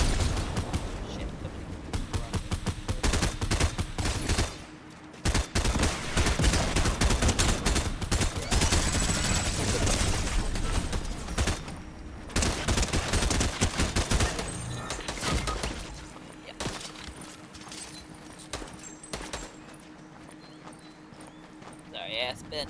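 Rapid bursts of gunfire and impacts in a Fortnite match, near and loud, repeating almost continuously with brief gaps, while a player talks over the action.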